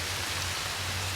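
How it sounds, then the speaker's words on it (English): Steady rain falling outside, heard indoors as a soft, even wash of noise with no talk, plus a low constant hum underneath. "I'm sure you can hear the rain"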